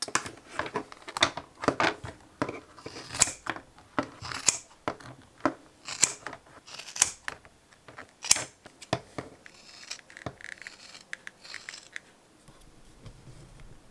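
Scissors snip through pale rubber crepe sole material for barefoot toddler sandals, a steady run of crisp, close cuts that thin out toward the end, with no talking.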